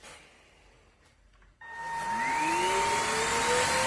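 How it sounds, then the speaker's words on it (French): Karcher FCV 3 cordless vacuum mop starting up on a floor: a rising motor whine that settles into a loud, steady whirring drone close by, with no talking. "Je vais aspirer en même temps."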